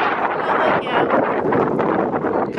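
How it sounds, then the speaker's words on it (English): Strong wind roars across the microphone outdoors at a horse riding arena, a dense continuous rush of buffeting noise with gusty swells and no clear speech. "You know it's a windy day when every jump is on the ground."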